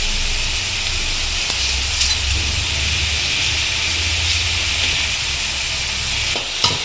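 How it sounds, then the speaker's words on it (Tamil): Onions frying with a pinch of salt in a pan as the base for chicken gravy, a steady close sizzle and hiss running throughout with a few faint stirring scrapes and no talk. "ஆனியன் சேர்த்து நல்லா வதக்கிக்கலாம் ஃப்ரெண்ட்ஸ். ஆனியன் வதங்கிறதுக்காக கூடவே கொஞ்சம் உப்பு சேர்த்துக்கலாம் ஃப்ரெண்ட்ஸ்"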